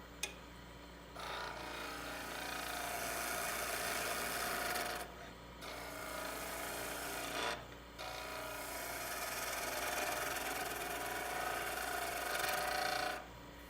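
A skew chisel cuts a V groove into spinning wood on a lathe while turning a suction-fit lidded box, a steady scraping, rasping hiss in long passes broken by brief pauses.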